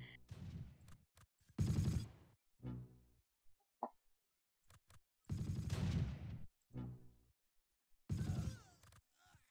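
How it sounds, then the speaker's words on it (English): Gunfire in the WWII tactical video game Close Combat, set around St. Marie du Mont: several loud bursts of shots and rattling fire separated by quiet gaps, with small clicks and mechanical noises between them. "From where are you being fired at?"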